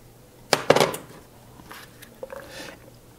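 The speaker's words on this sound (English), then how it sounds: "To this, I'm going to add 1 green pepper and 1 red pepper" Chopped green and red peppers tipped into a hot pan of olive oil, a brief clatter and scrape followed by faint sizzling and a few soft knocks.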